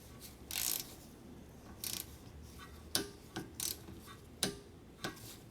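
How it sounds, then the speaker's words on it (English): A ratcheting torque wrench tightens Subaru Forester front brake bolts, giving faint, close, irregular ratchet clicks and short sharp ticks in a quiet garage. "So now we're gonna torque this one."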